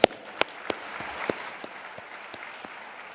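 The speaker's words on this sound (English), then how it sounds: "Let's give them a big round of applause." Applause from a banquet audience at the 2015 NHRA awards, a steady wash of clapping across the room with a few sharper claps standing out, fairly distant and without speech.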